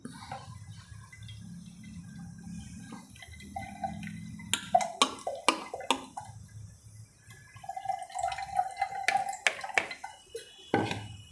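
Fresh amla, turmeric and ginger juice being strained, with soft drips, trickles and light clinks of a strainer and utensils scattered through a quiet kitchen, no talk.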